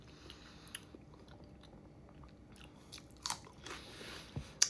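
Close, faint crunching bites and chewing of pickled onion cheese, a few sharper crunches standing out near the end against a quiet background.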